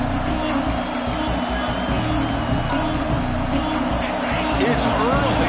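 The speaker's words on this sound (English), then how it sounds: "this crowd is fired up. Listen to this noise here" A football stadium crowd roars in a dense, constant wall of noise, loud and unbroken from start to finish, with a murmur of voices blended in.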